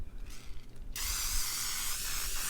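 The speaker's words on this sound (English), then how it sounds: "I'm going to use Baker's Joy and spray our cake pans." Baker's Joy baking spray hisses out of its can onto cake pans in one close, continuous spray of more than a second, following quieter handling noises.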